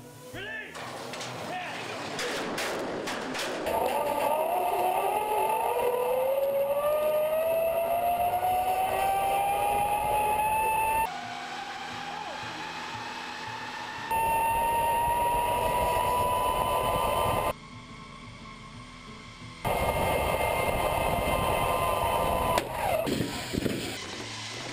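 Slidewire escape baskets are released from a NASA launch tower in 2012, after the space shuttles were retired. A steady rolling rush carries a whine that climbs in pitch as they travel down the wires, broken by several abrupt cuts.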